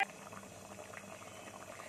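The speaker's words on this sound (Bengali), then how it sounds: "দেখুন আমার সবজিটা ফুটছে" A pot of potato and cauliflower curry bubbles steadily at a low simmer, a soft continuous burble of liquid with small popping bursts, close and fairly quiet.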